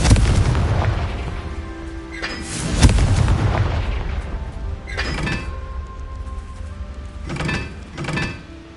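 The Confringo fire-blast spell in the video game Hogwarts Legacy goes off as several loud booming explosions, irregularly spaced, each with a heavy low thud and a crackling tail, with no talk over them.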